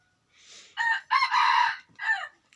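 A rooster crows close and loud in one full call, rising to a long sustained middle note and ending in a short final burst, with nothing else around it.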